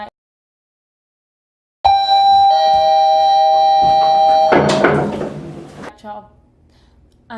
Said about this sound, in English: the doorbell ringing